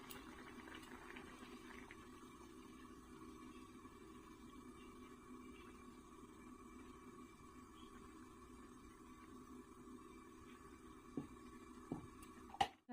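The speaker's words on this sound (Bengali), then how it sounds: "ডালটা ফুটতে লেগেছে" Chana dal, split chickpea lentils, boiling in a pot, a steady low bubbling simmer that stays quiet and even throughout, with a couple of faint clinks near the end.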